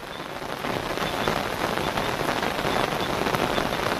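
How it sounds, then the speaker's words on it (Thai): Heavy rain pours steadily at night over a fishing camp by an abandoned pond in a mountain valley, a dense, continuous hiss of drops drumming on surfaces, loud and close throughout with no voices. "แต่ฝนมันตกแรงมากครับ"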